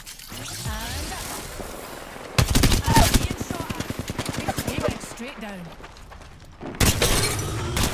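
Rapid gunfire bursts in Apex Legends, loud crackling volleys in two bursts over game sounds, with someone talking excitedly under and between the shots.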